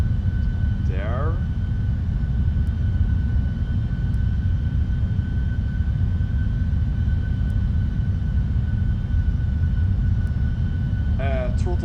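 Jet engines of a PMDG Boeing 747-400F cargo aircraft drone steadily in a Prepared3D flight simulator. The loud, constant roar holds throughout, and brief chirping cockpit tones appear near the start and end.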